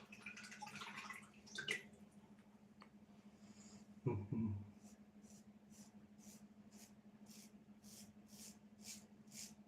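Water from a tap runs briefly to rinse a razor during a shave, a short splashing burst followed by faint drips over a steady low electrical hum.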